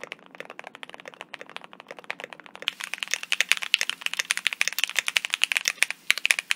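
Rapid, clacky mechanical keyboard typing, close and crisp, a dense rattling stream of keystrokes that grows louder and busier partway through.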